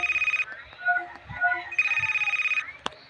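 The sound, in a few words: phone ringtone ringing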